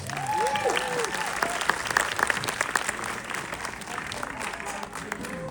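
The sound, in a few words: audience applause at film Q&A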